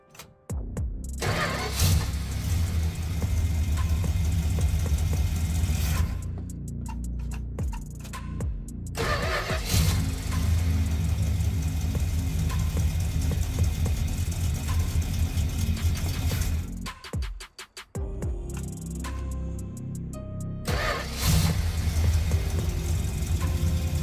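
A 1967 Dodge Dart V8 with a newly converted four-barrel carburetor cranks and fires, settles into a rough, loud idle, cuts out, and is restarted several times, running close up with no talk.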